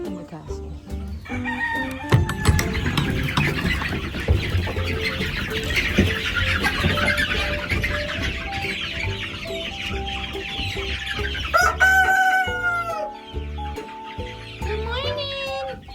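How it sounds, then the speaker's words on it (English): A flock of chickens clucks and squawks continuously close by, with a rooster crowing loudly near the end. "let me show you how many chickens I have"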